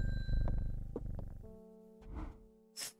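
A cat purring in the Strange Horticulture video game, a low steady rumbling purr under soft musical tones, followed by a couple of brief higher sounds.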